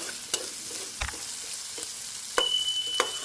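Spatula scrapes and clacks at an irregular rhythm as a vegetarian radish curry is stirred in a pan, over a soft, steady frying sizzle, close and fairly quiet.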